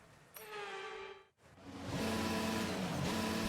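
A race car pulls away at the start of a rainy Austrian sprint race in a racing game, with an engine whine climbing, a brief cut, then a louder sustained roar with spray-like hiss.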